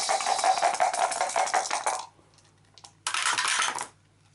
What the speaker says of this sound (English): So he's going to roll 3 dice